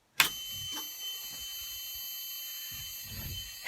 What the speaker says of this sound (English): The alarm comes on for the first time in like months.